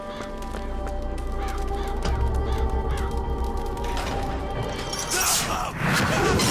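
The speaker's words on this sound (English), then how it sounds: "Eaten by crows." Crows caw harshly over a man's body in Bioshock Infinite, the calls rising out of a steady game ambience with a louder burst of cawing and flapping near the end.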